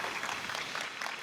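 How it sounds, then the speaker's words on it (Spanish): Brief burst of crowd applause, dense and even clapping from many hands, fairly faint and distant. "Un fuerte aplauso para ellos"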